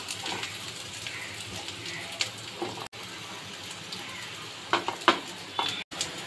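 Ginger and garlic fry in a pan for banana flower chops as chili and turmeric powder go in, a soft sizzle with intermittent stirring scrapes and clinks, close and fairly quiet, no talking.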